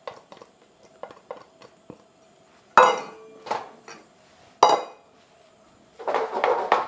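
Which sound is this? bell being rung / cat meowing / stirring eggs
stirring eggs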